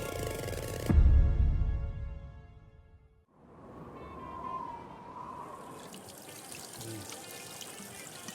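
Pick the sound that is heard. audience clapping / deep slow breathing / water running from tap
water running from tap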